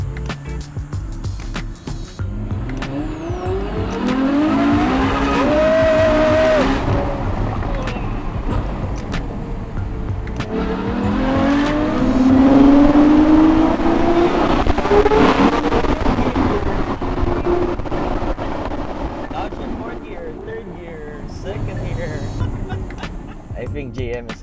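Modified Ferrari F12 Berlinetta with a V12 engine in Manila revving hard through two long accelerating pulls, loud and close with rising engine tones, while people talk over it.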